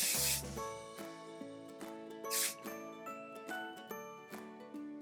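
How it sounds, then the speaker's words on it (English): Hairspray misted onto finished braids in two short hissing bursts over soft tinkling background music. "Put a little hairspray."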